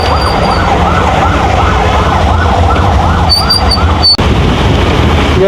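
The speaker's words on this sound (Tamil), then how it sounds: "ஆம்புலன்ஸ் ஏதாவது போகுது" An ambulance siren wails loudly in a steady rising-and-falling pattern as it passes over the constant rumble of traffic, with heavy rain noise throughout.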